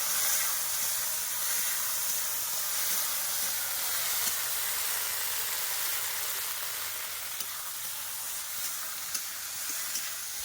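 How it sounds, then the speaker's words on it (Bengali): Elephant apple (chalta) and onions frying in hot oil, a steady, fairly soft sizzle and hiss with faint stirring clicks now and then, no voices. "এবার একটু চালতাটা ভালো করে ভেজে নেবো"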